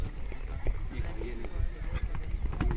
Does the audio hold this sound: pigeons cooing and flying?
no